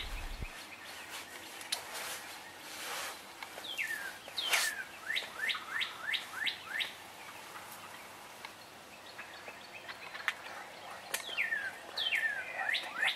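Wild turkey hen calling in a field during turkey season, several series of short, rhythmic yelps and clucks, moderately distant, separated by quiet outdoor ambience.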